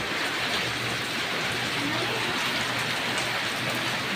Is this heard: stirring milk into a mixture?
no